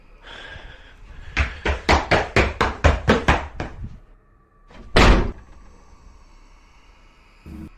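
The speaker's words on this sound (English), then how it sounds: "The knocking grew louder, closer, until suddenly, a door slammed shut right in front of him." Nine evenly spaced heavy knocks build in a quick run, followed after a pause by one loud door slam, with a faint lingering hum afterward.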